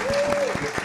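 A live audience at a public radio music event applauds a musician, a dense, steady wash of clapping that runs through the whole short moment, with a voice speaking over it.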